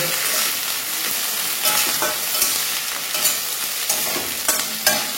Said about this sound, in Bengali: যতক্ষণ না আদার কাঁচা গন্ধটা চলে যায় ততক্ষণ একটু ভালো করে ভেজে নেব।